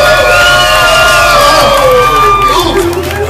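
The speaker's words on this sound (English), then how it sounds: "let me get a round of applause and some screams" A crowd at a swimsuit contest and showcase cheers and screams loudly for a contestant in pink, a dense, continuous roar of whoops and shouts with shrill high voices, sustained for a few seconds before easing slightly at the end.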